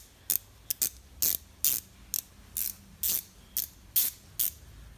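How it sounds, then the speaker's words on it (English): A ratchet wrench turned by hand gives about eleven crisp, evenly spaced clicking bursts, close and fairly quiet, in a garage with no talking. "this is a ratchet wrench where one way it will spin"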